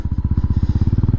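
A Royal Enfield Meteor 350 single-cylinder motorcycle exhaust thumps in a fast, even pulse. The beat is loud and close, with a deep low rumble and no voices.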